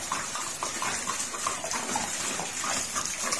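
Water being poured or running, a soft continuous splashing and trickling, moderately faint and steady, with no talk.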